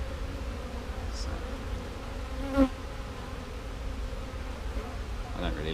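Honey bees droning around an open hive during queen grafting work, a steady low hum with a few individual bees buzzing past close by, faint and continuous under light background noise.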